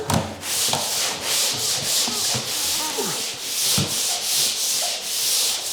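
Worn sandpaper rubbed by hand over dried drywall patches on a ceiling, a steady rhythmic scratching in repeated strokes, close and clear with no talk.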